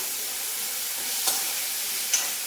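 Ingredients are sautéed lightly in a pan, giving a steady close sizzle with a couple of brief stirring scrapes and no talking.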